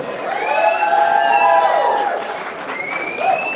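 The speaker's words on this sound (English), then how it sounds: "Come on guys, give them another round of applause." A crowd cheers and claps for finalists at the Tyne Burner chilli eating contest. Raised whoops and shouted voices rise and fall over scattered clapping, swelling twice in close, lively bursts.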